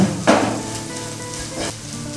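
Okra sizzles steadily in a hot pan as it is stirred, with two brief louder scraping stirs over the continuous close frying hiss; no voices.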